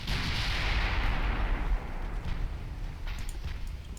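Naval gunfire from warships in the Ultimate Admiral Dreadnoughts game: a heavy, rumbling barrage that booms loudly at first, then rolls on as a dense, continuous roar of overlapping shots.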